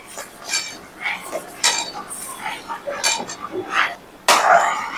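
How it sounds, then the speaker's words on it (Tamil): A spoon scrapes and clinks against a metal pot in irregular bursts as semolina is stirred into boiling water for upma, close by, with a brief cough. "இப்போ இந்த ரவையை கொட்டி கலந்துடும்"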